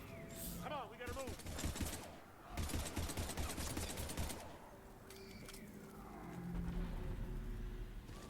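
Bursts of sci-fi rifle fire in a Mass Effect battle against husks, rapid rattling volleys that start and stop over steady background noise, with voices speaking between and under the shooting.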